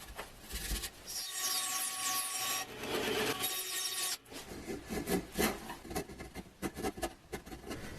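Sawdust is rubbed into glue squeeze-out inside a wooden box, giving close scratchy rasping strokes, a steady rubbing at first and then shorter, choppier scrubbing with no voices.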